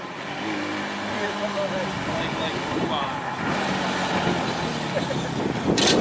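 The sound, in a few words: FedEx truck driving past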